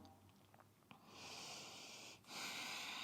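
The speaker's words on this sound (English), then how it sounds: "4 deep Ujjayi breaths." Deep Ujjayi yoga breathing held in downward facing dog during a Bakasana flow, a steady, close, airy hiss of breath that swells loudly after a quiet start, with a short pause before the next breath.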